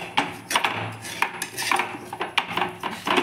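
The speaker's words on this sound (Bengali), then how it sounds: "এবার আমি আস্তে আস্তে এই সরগুলোকে কড়াইয়ের গা থেকে এইভাবে প্রেসার দিয়ে দিয়ে খুন্তির সাহায্যে" A metal spatula scrapes thickened milk cream off the sides of a kadai with the gas turned off, giving a run of sharp, irregular clinks and scrapes against the pan. The sounds are close and come every fraction of a second.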